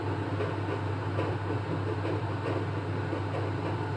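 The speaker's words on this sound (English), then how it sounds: "Sorry about the noise, but I need ventilation" A ventilation fan runs beside a multifuel stove burning dirty fuel, giving a steady, close, unbroken whirring hum with a low drone and no voices.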